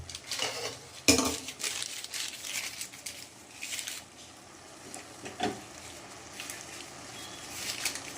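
While egg tadka is being cooked at home, hot water goes into a pot and a lid is set over it, giving close metallic clinks and knocks, one sharp clatter near the start, over quiet kitchen background.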